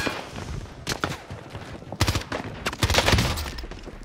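Rapid bursts of gunfire in Call of Duty on Rebirth Island, sharp cracks and SMG fusillades coming in clusters, some close and loud, others more distant, with no talk over them.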